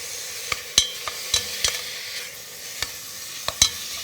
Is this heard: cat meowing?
no